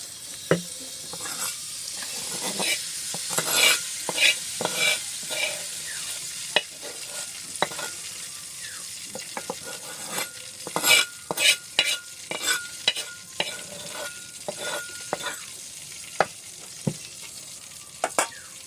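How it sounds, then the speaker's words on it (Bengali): Flattened rice (chira) frying in hot oil: a steady, moderate sizzle runs throughout, broken by frequent sharp scrapes and clacks of stirring in the pan, with no voices. "এখন আমি চিড়াটা ভেজে নেব।"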